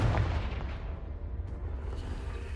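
A Confringo blasting spell goes off in Hogwarts Legacy, a single heavy booming explosion at the start that rolls into a low rumbling tail, loud and close.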